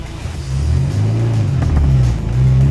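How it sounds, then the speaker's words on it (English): A classic Austin Mini accelerates hard on a coned handling course, its engine a loud, close, rising drone with deep rumbling harmonics. "Oh, bit of wheel spin."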